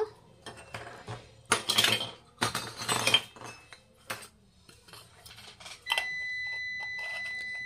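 Small miniature metal kitchen tools clink and chink together as they are gathered and set down, with bright clattering bursts between short pauses, close and moderately loud.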